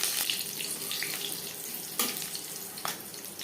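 Nigella seeds and green chillies frying in three spoons of hot mustard oil, a steady close sizzle with a few sharper crackles and pops over it.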